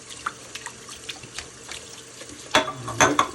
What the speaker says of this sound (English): Okay, let's rinse your bowl.